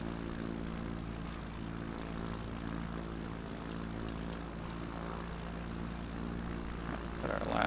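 Steady, close propeller aircraft engine drone with even harmonic hum, heard in a flight simulator game as the plane hovers low over a runway, holding constant with a slight rise at the very end.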